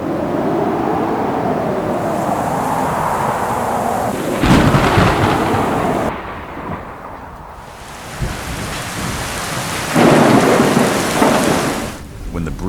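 Heavy rain and rolling thunder during the short rainy season on the Serengeti savanna, a steady loud downpour broken by several deep thunder rumbles and bursts, with no voices.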